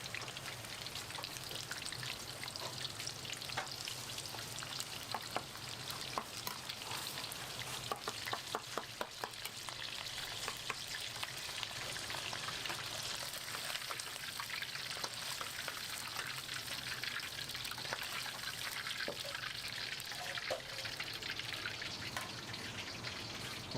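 Pork fries in a wok with a steady, dense sizzle and crackle, spitting evenly throughout and sounding close and continuous, with no voices over it.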